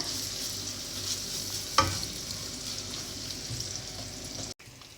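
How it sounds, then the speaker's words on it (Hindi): Garlic paste sautés in oil in a pan with a soft, even sizzle, broken once by a sharp tap of a utensil. The sizzle cuts off briefly just before the end. "हम इसमें 2 टेबलस्पून गार्लिक पेस्ट शामिल कर देंगे, और इसको हमने हल्का सा सौटे करना है"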